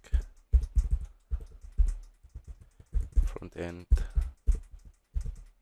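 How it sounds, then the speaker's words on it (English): A computer keyboard is typed on nearby in quick, irregular bursts of sharp key clicks with brief pauses, while a voice talks over them at intervals. "Let's start typing the name of our repo."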